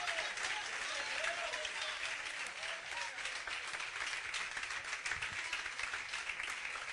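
A church congregation applauding during a worship service, a steady, dense wash of clapping that holds evenly for several seconds at a fairly soft level.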